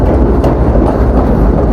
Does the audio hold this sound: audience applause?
no